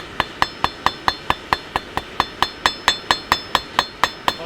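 A blacksmith hammers hot metal on an anvil in a fast, steady rhythm of about twenty bright, ringing strikes, each clang close and sharp with a short metallic decay.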